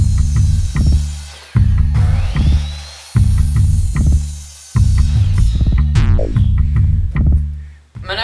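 A power tool cuts pieces of material for a dirt bike stand in repeated bursts, each starting sharply and winding down, about five cuts in a row, loud and close with a rhythmic throbbing hum.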